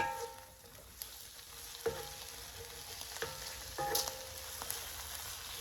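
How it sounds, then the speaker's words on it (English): Flour and browned meat bits fry in a pan as a base for mushroom and onion gravy, giving a steady soft sizzle with a few scraping clicks from stirring against the pan bottom. "We're lifting all the bits off the bottom of the pan."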